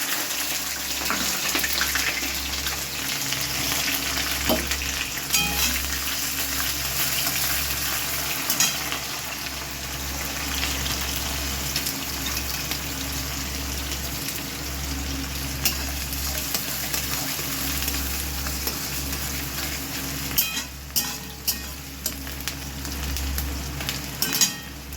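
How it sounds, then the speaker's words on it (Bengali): Chopped onion fries in a pan with whole cumin, cloves, cardamom, cinnamon and garam masala, a dense, continuous close sizzle with occasional stirring scrapes and clinks, steady for the whole stretch without talk. "পেঁয়াজ কুচি ভালো করে ভেজে নেব।"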